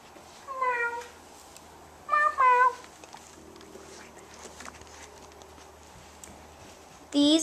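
Young kittens meow in short, high calls, a couple of bursts close by and another at the end, with faint background noise between.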